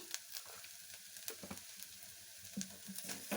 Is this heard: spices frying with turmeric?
yes